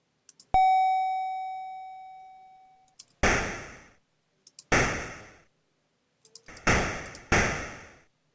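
A single electronic doorbell chime in the game The Castles of Dr. Creep rings out and fades, followed by several sharp slam-like thuds, with silence in between.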